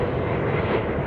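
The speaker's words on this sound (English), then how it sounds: "he showed me the plane taking off" An airplane taking off near a beach, heard as a steady, loud broadband engine roar that holds an even level throughout the short stretch, with no talking over it.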